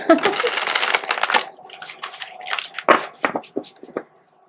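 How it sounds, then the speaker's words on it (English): A quick riffle of tarot cards being shuffled, then softer taps and flicks as the deck is handled and squared. "I already shuffled the decks, but I will shuffle them again."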